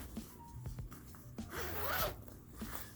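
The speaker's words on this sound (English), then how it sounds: "They've also got a zipper going down the leg here," A zipper running down the leg of a pair of pants is pulled in several quick, close rasping strokes, the longest in the middle, with no talk.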